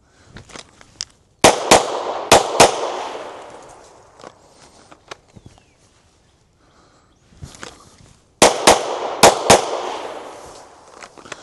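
Two bursts of sharp gunshots from reloaded practice ammunition during a drawing and target-transition shooting drill, each volley of several rapid loud cracks with echo, separated by a quieter pause with faint footsteps and rustling.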